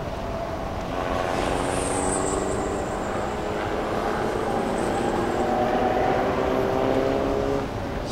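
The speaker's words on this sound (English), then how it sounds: "Straight away driving down the track at almost 190 kilometers per hour." A race car in the Thailand Super Series at Chang International Circuit roars steadily at high speed down the straight, a loud continuous engine drone with whining tones throughout.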